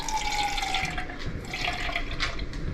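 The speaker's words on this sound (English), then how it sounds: "So take a cup, add water in there." About a quarter cup of water poured from a cup into a pot while cooking Irish coddle, a steady close splashing and dribbling that runs without pause for a few seconds, loud and unbroken.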